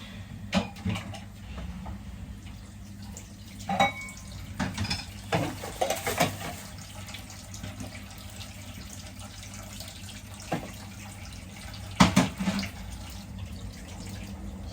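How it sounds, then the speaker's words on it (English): Water runs steadily from a tap while a blender and bowl clink and knock against a sink now and then, with occasional louder splashes of rinsing. "So now I just rinse the blender and the bowl with this water"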